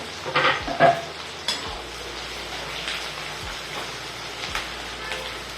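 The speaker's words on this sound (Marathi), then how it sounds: "व्यवस्थित असं परतवून घ्यायचं यामध्ये आपण घालतोय कांदा" Chopped onion sautéed and stirred in a pan for gobi manchurian, with scraping spoon strokes and a soft steady sizzle, louder clatter at the start then settling into gentle continuous frying.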